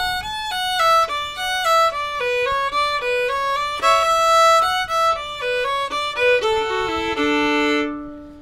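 A fiddle plays the ornamented first part of the old-time tune The Eighth of January, a quick run of bowed notes with drones and embellishments, steady and close, ending on a held note.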